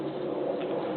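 A pigeon-like bird coos close by near a litter of young puppies, its soft, steady murmur filling the whole brief moment without any talk.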